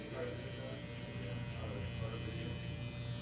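A Rebel electric hair clipper buzzes steadily and close during a fade haircut, a constant electric drone that never breaks.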